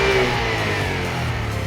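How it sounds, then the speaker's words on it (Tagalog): Close recording of a 2015 KYMCO Racing 150cc scooter idling at the exhaust, giving a steady, smooth low hum at moderate loudness with no talking. "Yan po yung tunog ng makina niya po."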